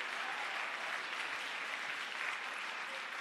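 An audience at the 2022 Jamaica Poetry Festival claps for a poet, an even, continuous patter of many hands heard fairly quietly and at a distance.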